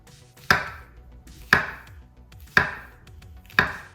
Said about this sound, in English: Just a quick chop.